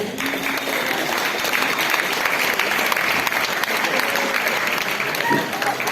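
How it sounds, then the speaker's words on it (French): Crowd applauding at a sports match, broad sustained clapping with scattered voices and a few whistle-like tones mixed in, loud and continuous. "On peut l'applaudir."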